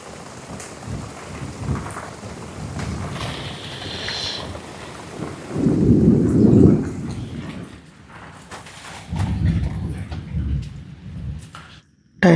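Rain falls steadily on a camping tent on a hillside in wind and rain, with deep rolling thunder swelling twice, loud and close, and no talk over the storm.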